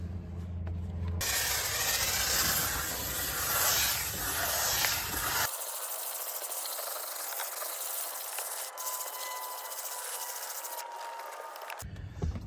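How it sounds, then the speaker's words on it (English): A steam cleaner blasting steam over the interior of a VW GTI, a loud, steady, broadband hiss that changes tone midway as the nozzle shifts across the surface, continuous with no talking. "You can hit the surface with the steamer"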